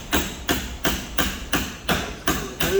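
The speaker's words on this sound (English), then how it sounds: "Get your hammer and just tap it." Hammer tapping a very flat tool wedged behind an Impala SS emblem, a steady series of about eight sharp metallic taps at regular intervals, close and clear with no talking.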